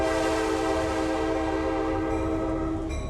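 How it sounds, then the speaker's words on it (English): Steady heritage railway train noise, wheels rumbling on rails and engine growl, with a sustained tonal drone and broad rumble throughout, continuous and fairly loud, with faint clicks near the end and no talking. "the rumble of the wheels and the growl of the engine"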